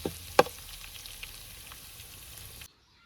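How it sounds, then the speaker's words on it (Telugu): Chicken pieces fry in oil for pickle, giving a soft, steady sizzle up close with a couple of brief utensil clinks near the start before the sound abruptly cuts off. "ఫ్రై చేసుకోవాలి. గోల్డెన్ కలర్లోకి రావాలి, మంచిగా క్రిస్పీగా అవుతుంది."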